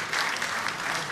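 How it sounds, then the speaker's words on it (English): Audience clapping at a CES 2011 presentation, a short, brisk round of applause from a crowd, moderately loud and close with no talk over it. "we got the first real clap"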